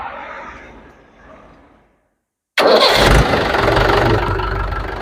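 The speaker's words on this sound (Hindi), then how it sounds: "हम आपको ट्रैक्टर स्टार्ट करके दिखाते हैं" After faint background noise and a brief silence, a Mahindra tractor engine abruptly fires up and settles into a loud, rough running roar.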